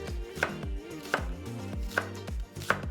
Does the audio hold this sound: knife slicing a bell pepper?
yes